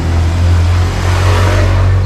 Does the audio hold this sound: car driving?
yes